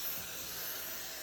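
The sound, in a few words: spraying lubricant into a paintball magazine's ball channel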